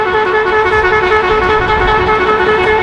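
An extremely loud 170 dB horn blares in one unbroken, steady, close blast for about three seconds, its bright tone held at full strength with no pauses.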